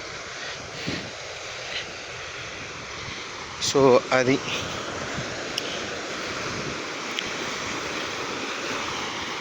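Waves wash steadily onto the shore in a constant roar, with a brief burst of voice near the middle and a couple of faint clicks.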